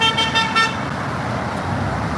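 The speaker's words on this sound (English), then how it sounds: "They know to honk now, too, even without the sign." A car horn in Los Angeles traffic gives a few short, loud toots at the start, then fades into a steady roadway rumble with no talk.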